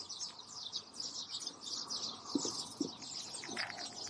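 Lots of birds chirping and tweeting together on a farm in a steady, busy chorus, with a couple of low soft thuds partway through.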